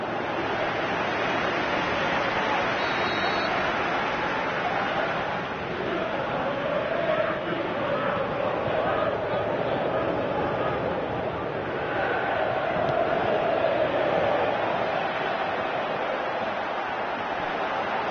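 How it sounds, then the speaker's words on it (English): A stadium crowd in the football video game PES 2018 keeps up a steady, even roar that swells slightly, with no breaks. "Crowd calling for him to shoot."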